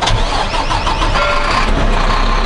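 Semi truck diesel engine with a Road Ranger transmission and about 357,000 miles starting up, a loud crank catching into a rough, rumbling idle that continues steadily.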